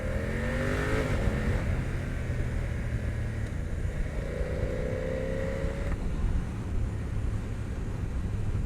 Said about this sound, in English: I can hear the engine more, the intake noise more than the exhaust